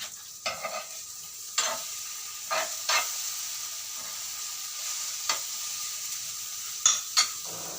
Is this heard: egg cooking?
yes